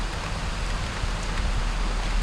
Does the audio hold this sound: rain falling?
yes